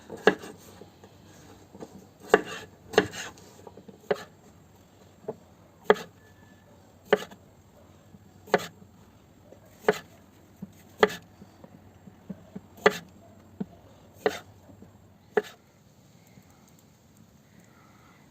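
A knife chops vegetables for stuffed peppers on a board with sharp, fairly regular strokes, roughly one every second, close and clear over a faint low hum.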